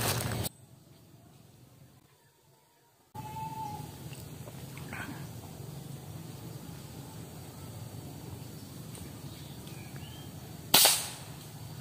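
An air rifle fires during a squirrel hunt, one sharp, fairly close shot near the end standing out against quiet outdoor background hiss, after a brief dip to near silence early on.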